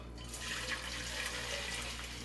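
Strained chicken broth pours back into a pan, a steady close splashing and gurgling stream of liquid over a low kitchen hum.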